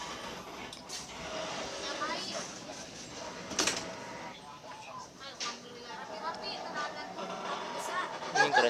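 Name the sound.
passing train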